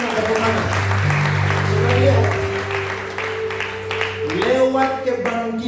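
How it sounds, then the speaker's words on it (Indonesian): Church congregation at a revival service clapping hands together over sustained keyboard music, with voices talking and singing over the loud, continuous clapping. "Tepuk tangan, tepuk tangan."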